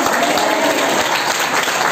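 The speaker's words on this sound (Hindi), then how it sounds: "एक बार पास्टर जी के लिए जोर से ताली बजाएंगे, जोर से ताली बजाएंगे।" A church congregation at a Holy Spirit seminar in Haryana and Punjab claps loudly for their pastor, with dense, steady applause that fills the room evenly from start to finish and no voices standing out.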